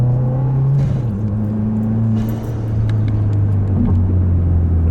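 A Subaru WRX (VB) fitted with a mechanical diverter valve pulls hard from inside the cabin, its engine drone steady and loud, with a shift near the start and a brief dip mid-way before the tone settles and climbs again.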